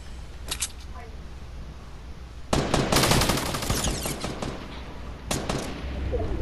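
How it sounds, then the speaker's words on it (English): Bursts of rapid automatic gunfire in a shooter video game, a short volley early on, then a long loud sustained rattle and another burst near the end, with voices talking over it. "I'm getting shot at"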